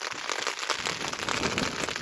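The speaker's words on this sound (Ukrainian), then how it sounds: "Оу, а там того дощу на півгодини, напевно." Heavy rain pours outdoors during bad-weather fishing, a dense, steady hiss of drops pattering on surfaces, close and loud with no pauses.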